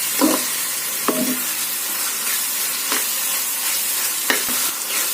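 A tomato onion curry with chili powder, turmeric and salt being stirred in a hot pan: steady close sizzling broken by several scraping spoon strokes and light knocks against the vessel.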